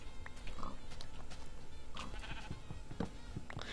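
Repeated sheep bleats in Minecraft sound over a busy background of clicks and game noise, several short cries spread across a few seconds.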